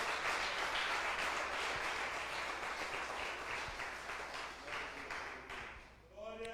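A church congregation applauds loudly, a dense wash of clapping that tapers off slightly toward the end as a voice begins to come through.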